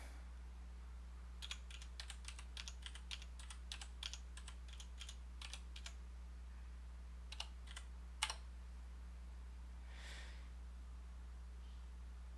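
Quick bursts of typing on a computer keyboard, clusters of sharp key clicks followed by a few isolated taps, heard close over a steady low electrical hum.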